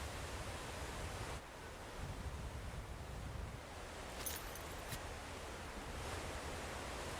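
A waterfall in the video game Satisfactory gives a steady, dense rushing roar, loud and continuous throughout, with only slight shifts in level and no speech.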